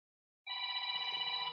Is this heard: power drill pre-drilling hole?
no